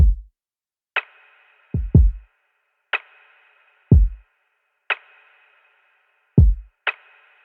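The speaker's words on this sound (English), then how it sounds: "I started with a simple kick and snare pattern." A sparse lo-fi hip-hop drum beat alternates deep booming kick thumps with sharp, ringing snare hits at a slow, steady tempo, with silence between strikes.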